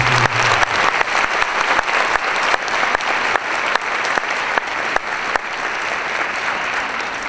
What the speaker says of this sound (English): Give a round of applause for Kleinhan.